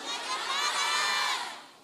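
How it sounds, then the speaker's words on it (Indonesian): A large crowd at an evening music show shouts together in one loud swelling burst that fades at the end, the high mixed voices of adults and children. "Sama-sama teriak yuk."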